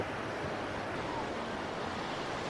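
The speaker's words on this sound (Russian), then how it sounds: "тут практически всегда есть вот эти вот волны" Sea waves wash continuously onto Haad Rin beach on Koh Phangan, a steady broadband surf roar with some wind noise on the microphone and no distinct pauses.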